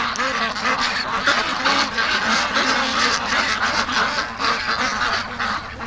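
Muscovy ducks and other domestic ducks crowd close by outdoors, giving a steady stream of loud quacks, hisses and honking calls with no pause.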